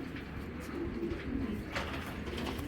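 A racing pigeon coos softly in low, rolling murmurs, close but faint against a quiet background.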